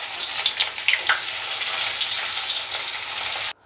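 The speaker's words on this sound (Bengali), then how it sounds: "তা এখন মাছগুলো আমি ভেজে নিই আগে।" Bhola fish sizzles in hot oil, a bright, dense crackle with a few sharp pops early on, steady and close until it cuts off abruptly near the end.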